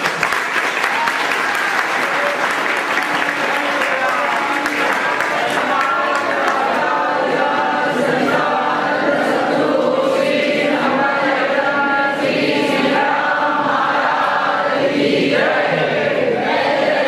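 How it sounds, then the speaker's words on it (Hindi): An audience at a spiritual evening gathering gives sustained, dense applause, many hands clapping steadily and loudly for the whole stretch with no pause. "जोरदार करतल ध्वनियों से हम अपनी उपस्थिति का यहाँ आरंभ"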